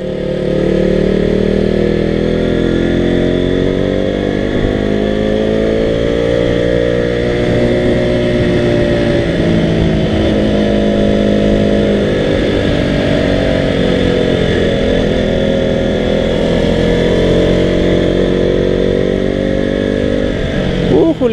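Loud, steady engine drone of a KTM RC 200 motorcycle while riding, with pitch rising and falling as the throttle shifts, continuous throughout.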